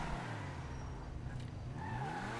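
Tires skid and squeal steadily as an Overflod Tyrant supercar brakes hard in GTA Online, the continuous screech running over low engine rumble for a couple of seconds with no voices.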